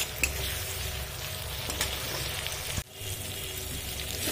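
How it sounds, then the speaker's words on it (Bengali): Spices and chopped tomato fry in a pan for a cabbage and chana dal curry, giving a soft, even sizzle throughout, with a brief dip near the end and no talking. "আর এখানে দিয়ে দেবো কেটে রাখা টমেটো দিয়ে মশলাটা আরেকটু সুন্দর করে কষিয়ে নেব।"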